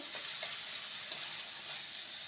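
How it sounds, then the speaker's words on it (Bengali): Ginger and green chilli stir-fried in oil in a pan, a soft continuous sizzle with light scraping stirs, fairly quiet. "আদা আর কাঁচা লঙ্কাকে ভালো করে নেড়ে নিতে হবে"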